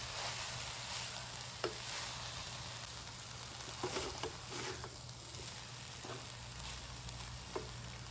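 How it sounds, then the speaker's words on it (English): Broccoli rice is stirred in a pan over a steady, faint sizzle, with a few soft scrapes and light clicks of the spoon scattered through the hiss. "I'm going to stir this in."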